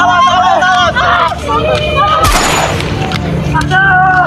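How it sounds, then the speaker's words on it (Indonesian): Gunfire from British soldiers in a war drama about the battle of Surabaya, a sharp loud burst mid-clip with crackling shots, heard under raised voices and crowd babble. "Weh, Inggris nembak, awas."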